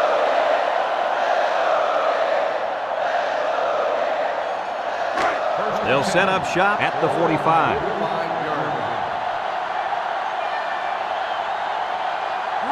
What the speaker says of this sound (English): The sellout crowd is really making a difference now as these guys can't even call the play.